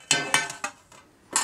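A metal popcorn tin being opened, a series of sharp metallic clanks and rattles, four quick hits in close succession and a final loud clatter, close and without talk.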